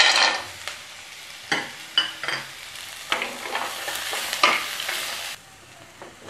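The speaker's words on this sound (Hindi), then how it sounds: "अब हम इसमें काजू डालकर इसे फिर से सेकेंगे।" Cashews and onions frying in a karahi for kadai paneer, a steady close sizzle broken by several scraping stirs of a spoon, with no one talking.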